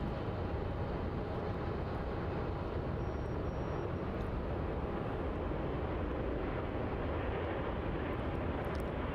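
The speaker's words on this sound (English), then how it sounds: "BI6 taxiing up to the end of runway 34" A Royal Brunei airliner taxis at Melbourne Airport toward the end of runway 34, its engines giving a steady, broad jet roar that holds constant throughout.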